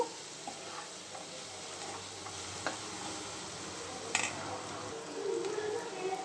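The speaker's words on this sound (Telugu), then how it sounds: "చిటికెడు పసుపు కొంచెం ఉల్లిపాయల్ని వేగనిద్దాము" Onions fry in a pan with a pinch of turmeric, giving a faint, steady sizzle broken by a few soft clinks and stirring scrapes.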